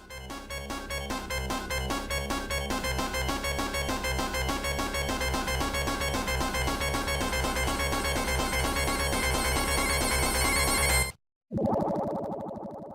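Sonic's underwater drowning countdown music from the video game, a loud, frantic, steadily accelerating electronic jingle with a dense repeating pulse that cuts off abruptly near the end, followed by a brief burst of other game sound.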